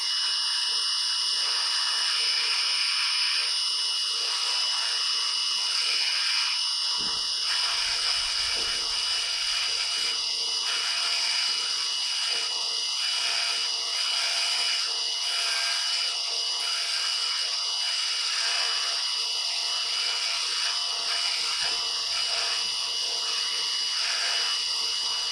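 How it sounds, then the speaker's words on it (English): A small grinder whines steadily and loudly as it cuts material away on a Husqvarna 136 chainsaw, a sustained high-pitched drone that wavers slightly in pitch throughout. "I'm going to have to grind a little bit of material out of the way"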